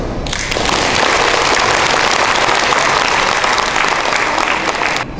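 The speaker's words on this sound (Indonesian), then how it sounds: "Beri tepuk tangan yang meriah." An audience at an Indonesian business talk claps, producing loud, dense, sustained applause from a crowd that lasts about five seconds before stopping abruptly.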